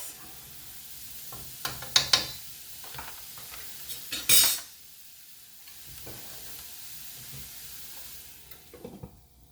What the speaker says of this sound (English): This is some scallions and oregano. I'm going to saute this.